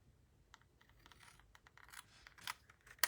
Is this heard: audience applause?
no